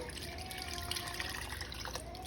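Warm cream poured from a measuring cup into a pot of Zuppa Toscana-style soup, giving a steady, quiet liquid trickle that runs continuously for about two seconds with no talking.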